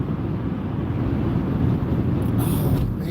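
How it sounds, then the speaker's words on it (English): Strong wind buffets the microphone outside a car during a winter driving lesson, a steady loud low roar running the whole time with no talk. "Oh man, it's so windy."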